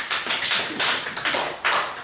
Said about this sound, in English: Then raise also your left hand and clap.